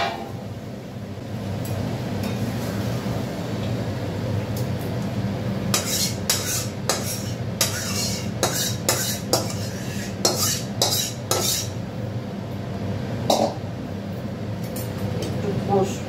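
Marinated chicken going into a pan with fried onion and ginger-garlic paste, followed by a run of sharp metal spoon clicks and scrapes against the pan over a steady low kitchen hum, with someone talking.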